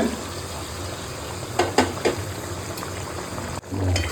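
Chicken curry bubbles steadily in a pot as a little hot water goes in, a dense simmering hiss with a few brief splashes and stirring knocks near the middle, heard up close with no talk.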